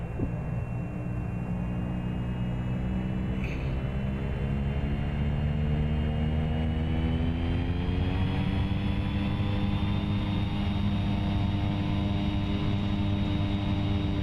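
Airliner engines in a flight simulator spool up to takeoff power, a loud continuous drone with a deep hum and a slowly rising whine throughout.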